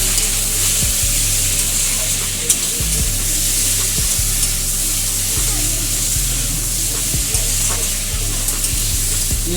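Ginger-garlic paste, about three spoonfuls, stirred in hot oil in a frying pan, a steady loud sizzle broken by regular spatula scrapes every second or so, with no talk.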